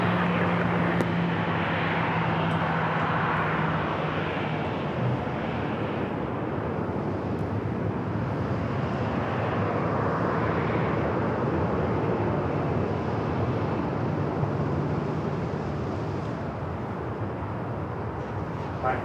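Alaska Airlines Boeing 737-900ER jet roaring steadily as it powers up for takeoff on runway 27 at San Diego airport, a broad continuous engine rumble that holds loud and unbroken throughout.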